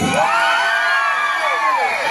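A large theatre audience at an Ugadi awards ceremony in Sri Vijaya Puram, Andaman, cheers and shouts together, loud and sustained, with high whoops rising above the roar throughout.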